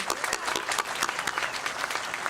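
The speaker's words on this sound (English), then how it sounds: "So a round of applause to Mary." A short burst of steady, dense applause from a crowd, clapping continuously throughout.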